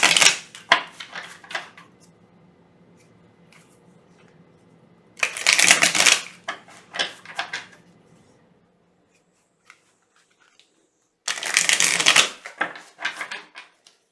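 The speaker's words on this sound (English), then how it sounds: "So let me shuffle the cards for one moment." Three bursts of tarot cards being riffled and bridged, with softer card handling and taps in between, close up.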